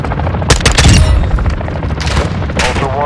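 Dense gunfire from Warzone 2 DMZ rapidly crackles and booms in close bursts, overlapping loud shots with a brief rattling automatic run, all at high volume throughout.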